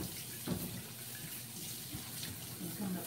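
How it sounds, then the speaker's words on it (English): A running kitchen tap rinses out a cooking container in the sink, a steady close rush of water with a few clunks from the container, and brief talk in the background. "I gotta wash this out so we can make our salad dressing."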